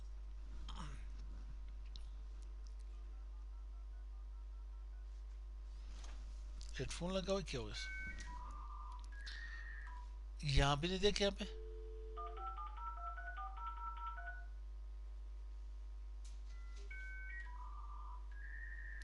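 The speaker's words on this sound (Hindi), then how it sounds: "तो हमारे पास डायल-अप की एक साउंड आया करती थी, डायल-अप साउंड।" An old dial-up connection dials out with bursts of stepped telephone keypad tones and short hissing, crackly handshake noises, faint over a steady low hum while someone talks quietly between them.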